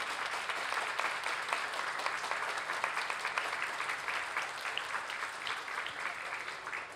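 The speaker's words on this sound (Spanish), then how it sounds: "Por los 15 años de Azul y Dana, démosle un fuerte aplauso." Warm, sustained applause from a church congregation at a quinceañera mass for two girls' fifteenth birthdays, a dense steady patter of many hands clapping throughout with little variation.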